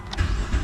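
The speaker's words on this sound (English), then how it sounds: "The engine is running." Chrysler 2.7 V6 engine in poor condition runs with a low, rough rumble at idle, close and steady with slight uneven pulses.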